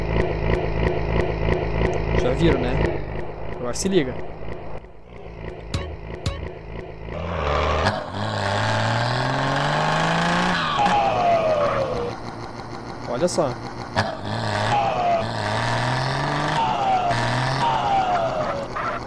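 A truck engine in a SAMP video game, fitted with a straight-pipe sound mod, rumbles under a man's speech, then revs up in rising sweeps and drops back, loud and near.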